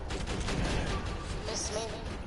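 Dense weapon fire in the shooter Borderlands 2, a continuous loud burst of rapid shots filling the whole moment with little pause between them.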